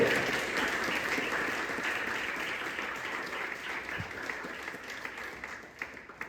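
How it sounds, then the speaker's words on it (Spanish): Loud, sustained applause from a church congregation honoring the Lord during a Spanish-language sermon, a dense wash of clapping that fills the room and slowly thins toward the end. "¿Por qué no le das un fuerte aplauso al Señor por esto?"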